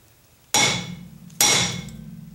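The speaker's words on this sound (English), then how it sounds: "You're going to have to get yourself a big hammer." Two heavy metallic hammer blows on a stuck rear brake drum of a 1995 Pontiac Grand Am, each a sharp loud clang with a ringing decay, spaced about a second apart; no voices.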